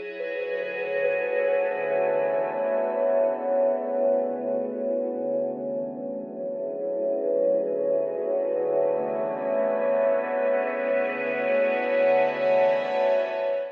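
Sustained synthesizer chords from a Serum preset swell and hold with a smooth, bright, reverb-washed tone, playing steadily without any voices.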